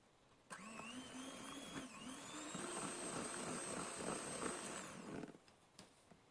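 An electric mixer whirs steadily for about five seconds as it beats honey into batter for a honey and mayonnaise cake. The whine is loud and close, then cuts off, with no talking.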